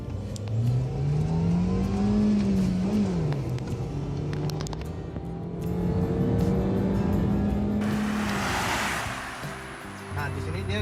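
A Suzuki Ertiga engine pulls hard with rising revs, a steady drone climbing through the gears as the car accelerates, with a person speaking over the cabin noise.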